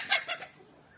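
A few short, close clucks from chickens being raised, bunched in quick succession at the start and then trailing off into quiet farmyard background.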